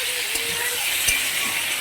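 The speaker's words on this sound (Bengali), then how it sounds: "তো সবজিটা ভাজা হয়ে গেছে লাল লাল করে" Vegetables fry in a pan until reddish. A loud, even hiss of sizzling oil fills the whole span, with a few faint clinks and a soft voice under it.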